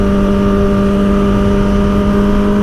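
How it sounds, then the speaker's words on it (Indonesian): A motorcycle engine runs through a loud aftermarket exhaust, holding a steady, throaty drone with a strong low hum for the whole stretch and no voices over it. "suara geberannya kedengeran, suara knalpotnya kedengeran gitu ya kan"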